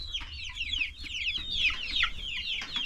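Dark Brahma chickens clucking and chirping in quick overlapping calls, close and continuous with soft low background rumble.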